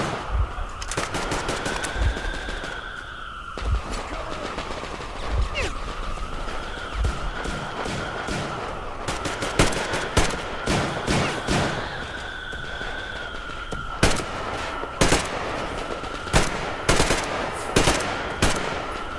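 Gunfire in Metro Exodus, loud, sharp bursts of automatic fire in clusters against a steady wailing alarm tone, with occasional voices underneath.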